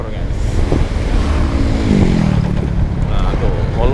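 A motorcycle rides through busy traffic, its engine a steady mid-level drone mixed with heavy wind buffeting and the rumble of nearby vehicles, loud and continuous.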